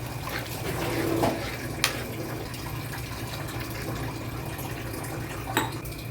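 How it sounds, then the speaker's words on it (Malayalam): Two glasses of water poured into an okra tamarind curry in a pot, a quiet, steady liquid wash with a couple of sharp clinks of utensil on the vessel and no voices. "ഒന്ന് ഇളക്കി കൊടുത്തതിന് ശേഷം 2 ഗ്ലാസ് വെള്ളം ഒഴിക്കണം."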